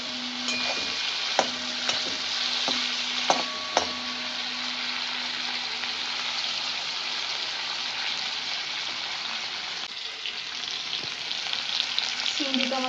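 Shrimp (chingri) sizzling steadily in mustard oil in a pan, a loud continuous hiss broken by a few sharp stirring clatters early on, with no voices.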